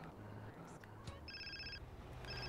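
Phone ringing in GTA San Andreas, a repeating electronic ringtone with steady tonal bursts, heard clearly over game background sound and low engine hum.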